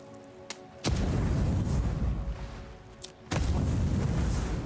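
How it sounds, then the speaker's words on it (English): Two heavy booms from a grenade blast in the game Avowed, each a sharp burst that leaves a loud rumbling roar, spaced a few seconds apart with no voices. "maybe I should throw a grenade up"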